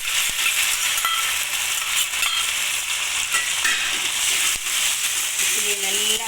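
Crushed anchovies fry loudly in hot oil, giving a constant bright sizzling hiss with occasional stirring scrapes, and a voice speaks briefly near the end.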